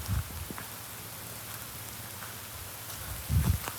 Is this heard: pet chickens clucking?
no